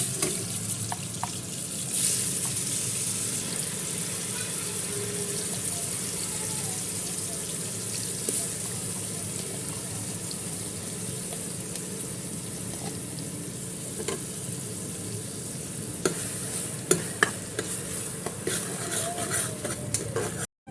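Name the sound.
onions frying in oil, stirred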